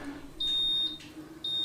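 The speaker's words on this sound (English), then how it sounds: "It's beeping at me" A dry ageing cabinet gives two steady electronic beeps, a longer tone then a shorter one, over a quiet room hum.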